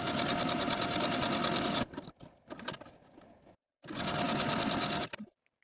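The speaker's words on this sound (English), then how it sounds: "Now I'm going to sew small buttonholes through this single layer of interfaced fabric." A sewing machine stitches small buttonholes through a single layer of interfaced fabric for pajama shorts, running in two steady, loud bursts separated by a gap of quieter handling noises.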